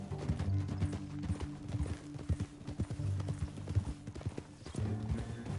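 Horse hooves clopping in the open-world western game Red Dead Redemption 2: a close, rhythmic run of hoofbeats with a few pauses, touches of tack and gear noise, and a faint whinny.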